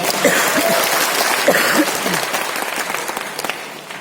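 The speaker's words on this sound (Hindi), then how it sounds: "एक जबरदस्त तालियां सभी लोगों के लिए।" Audience applause at a business training seminar, a loud sustained wash of clapping from a large crowd that tapers slightly toward the end, with some voices mixed in.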